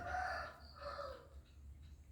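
A rooster crows once, fairly faint and somewhat distant, its drawn-out call fading over a low background hum.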